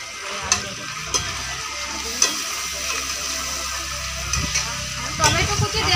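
Goat meat with salt and tomato being stir-fried in a pan, a steady sizzle with a few sharp spatula scrapes and clinks spaced through it, close and moderately loud.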